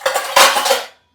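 A small metal plate set down over a cooking pot of ridge gourd and moong dal on the stove, two quick ringing clanks of metal on metal, close and loud, then silence.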